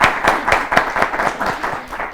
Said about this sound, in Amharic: እስቲ ደስ አጨብጭቡላቸው